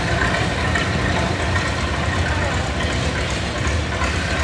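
Allis Chalmers D21 tractor engine at a county tractor pull, a loud, continuous, steady mechanical roar filling the scene throughout.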